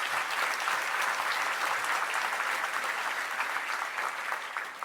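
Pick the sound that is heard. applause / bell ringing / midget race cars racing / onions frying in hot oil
applause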